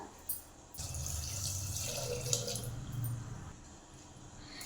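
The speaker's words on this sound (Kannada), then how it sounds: "ಇದಿಷ್ಟು ಹಾಕಿ ನೀರು ಹಾಕೊಳ್ಳೋಣ ಈಗ" Water pours steadily into a pot of dal and vegetables for sambar for a few seconds, a soft splashing gush that stops, with small clinks before and after.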